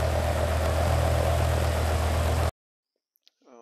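A BMW E60 M5 engine, just back from ignition coil service, idles with a steady, loud rumble that cuts off abruptly, leaving near silence and a faint voice afterward.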